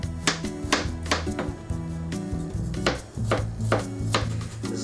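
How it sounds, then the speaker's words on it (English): A knife minces fresh ginger on a cutting board for Northern-style Chinese dumplings, making quick repeated close chopping taps in an uneven rhythm, with no talk. "mince this ginger"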